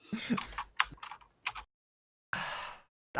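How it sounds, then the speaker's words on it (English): Computer keyboard typing in quick irregular bursts, close and fairly loud, with a silent gap before a final dense flurry of keystrokes; no one speaks. "I can hear your keyboard. That's because I'm typing"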